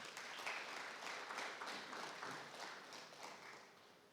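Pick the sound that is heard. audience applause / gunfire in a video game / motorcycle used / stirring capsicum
audience applause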